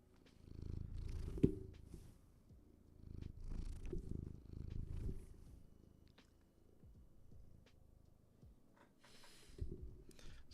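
A house cat purring right into a microphone, a close, low rumbling purr in slow rhythmic waves over about ten seconds, with a few small snuffles and no talk.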